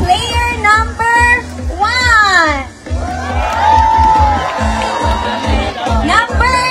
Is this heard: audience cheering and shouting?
yes